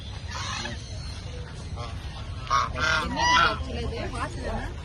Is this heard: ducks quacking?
yes